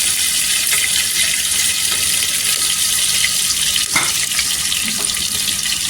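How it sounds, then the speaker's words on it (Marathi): Crushed garlic, green chilli and ginger sautéing in hot oil, a loud, even, continuous sizzle close by with a faint clink near the middle and no speech. "इथे छान असं तेलावर परतून घ्यायचं"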